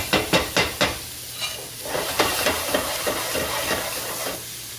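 A spoon turns vegan Jamaican stew peas in a pot: four sharp clinks open the clip, then a steady wet, hissing simmer with softer scrapes and stirring sounds, close and fairly loud, no talk.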